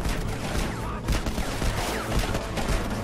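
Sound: machine gun fire in the video game Conflict: Denied Ops

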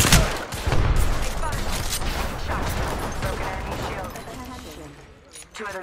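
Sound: gunfire in the video game Apex Legends

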